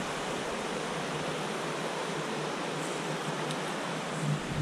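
A river flowing in the distance beside a mountain hiking trail, a steady broadband rush that fills the whole moment evenly with no talk over it.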